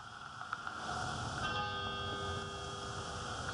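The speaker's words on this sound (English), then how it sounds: "102 chimes for 102 lives lost." Memorial bell chiming at an outdoor ceremony honoring COVID-19 victims, one ringing tone sustaining and fading over a faint, steady background hum, distant and soft.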